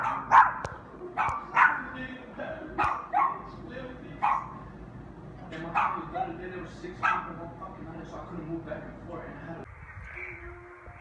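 Several dogs bark repeatedly in short, irregular bursts, fairly close and loud, with some yips among them, while people talk over and between the barks.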